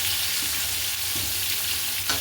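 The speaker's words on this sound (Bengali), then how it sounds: "মাংসের জন্য আলুটা ভেজে নিই" Potatoes sizzle loudly in hot oil in a pan, a continuous crackling hiss with a few soft stirring scrapes, no voices over it.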